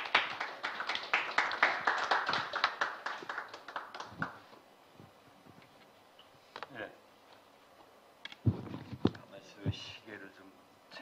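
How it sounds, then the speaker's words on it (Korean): Applause at a forum session on DMZ ecology and cultural cooperation, a few seconds of clapping at moderate distance that thins out, followed by quiet room sounds and scattered taps. "큰 박수 부탁드립니다."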